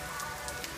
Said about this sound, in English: Don't mind me just video recording the rain and everything